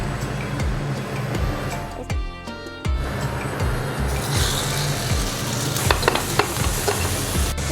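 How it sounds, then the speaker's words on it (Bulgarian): Burger patties frying in oil in a pan, a steady close sizzle that runs the whole time, with some scraping and stirring sounds partway through. "Намазняваме ги с олио и ги пържим."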